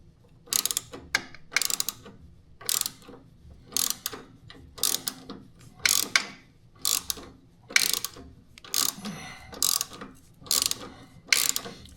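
A hand ratchet wrench clicks in repeated short bursts while tightening a foot peg bolt on a Dyna Low Rider motorcycle. The sound is close and crisp, with about a dozen rhythmic ratcheting strokes and no talking.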